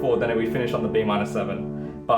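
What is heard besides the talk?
No everyday noise stands out behind the speech.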